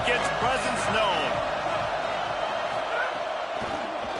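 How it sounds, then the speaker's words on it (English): Stadium crowd noise at a college football game, a steady roar of many voices filling the space throughout, with brief whoops rising above it and a commentator talking over the top. "This crowd ready to make its presence known."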